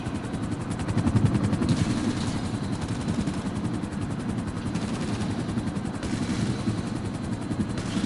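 A helicopter in the video game GTA 5 drones steadily with a rapid rotor chop, continuous and moderately loud, with a few brief louder bursts along the way.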